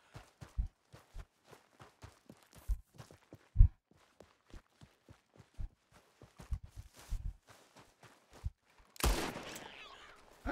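Scattered single gunshots from Red Dead Redemption 2, sharp isolated cracks spread across the span among footstep-like taps, with a louder burst late on followed by a short rumbling decay.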